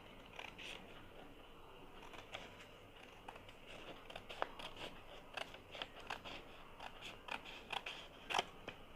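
Scissors snip through paper, trimming the excess around a cut-out for a lac operon model, with repeated short crisp clicks spread irregularly across a quiet background.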